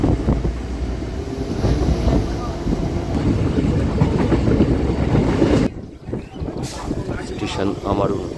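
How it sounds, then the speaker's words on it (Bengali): The 7:25 Katwa local passenger train on the run, a loud steady rumble and rattle of wheels with wind buffeting the microphone and a short dip before the noise resumes. "7:25 কাটোয়া লোকাল। 8 নম্বর স্টেশন থেকেই ছাড়ে কাটোয়া লোকাল।"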